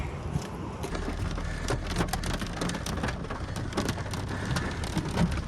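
Rain pours and hail starts to fall during a storm under a green sky, a dense, constant patter with scattered sharper ticks and impacts, loud and close.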